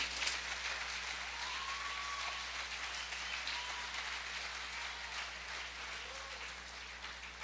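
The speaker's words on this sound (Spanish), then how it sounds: "Dale al Señor ese aplauso" Congregation applauding during an evening church service, a continuous, fairly even crowd clapping at moderate distance with a faint low hum underneath and a few brief tonal squeaks.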